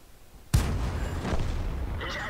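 A single heavy tank cannon shot booms abruptly in a tank video game, followed by a long rumbling tail of engine and battle noise, with no talking.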